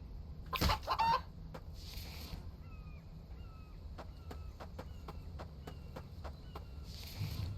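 A chicken in the video game The Infected clucks close by in a rapid series of short, sharp notes. A few louder squawks and rustling bursts come at the start and end.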